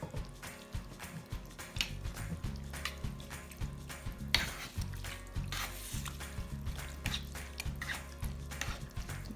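A spoon stirs thick melted Velveeta cheese dip in a slow cooker, making soft, steady, repeated squelching and scraping strokes close by.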